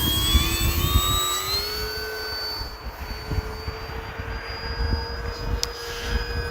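A jet aircraft sweeps low over a snowy runway in a flight simulator, its steady engine whine and a rising tone carried over a constant rumble, fairly loud and unbroken throughout.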